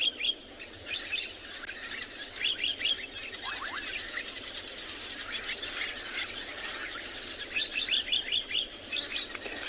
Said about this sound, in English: fantastic sounds, especially these sociable weavers behind us